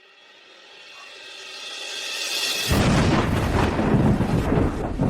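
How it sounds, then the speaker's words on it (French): A sudden crash of thunder in a drama scene: a low rumble swells steadily, then breaks into a loud, broad roar that holds to the end, with no speech. "Il faisait si beau. Pourquoi y a-t-il soudain du tonnerre?"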